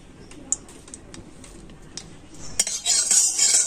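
A spoonful of ghee goes into a wok on a stove, with light metal spoon clinks and taps, then a brief louder burst of clatter and soft sizzle near the end.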